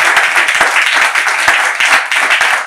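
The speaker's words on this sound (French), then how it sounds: "On applaudit, hein, s'il vous plaît, les analyses du pasteur" An audience claps steadily for a pastor in dense, continuous applause, loud and close, filling the whole stretch without a break.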